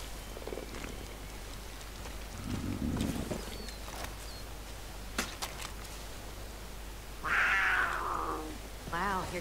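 A cat in the Far Cry 5 video game gives a couple of short, fairly close meows near the end, set over a quiet ambient game background with faint rustling and scattered small noises.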